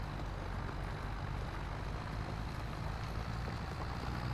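Tractor engine in Farming Simulator 25, a steady low droning hum running continuously at a faint level with no talk over it.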